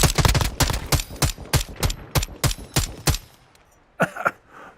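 Rapid bursts of automatic gunfire in Modern Warfare II, about a dozen loud sharp shots in quick succession that stop abruptly, followed by a couple of fainter shots after a short pause.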